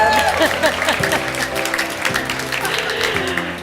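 A church congregation applauds the band, a dense burst of clapping mixed with voices and lingering music.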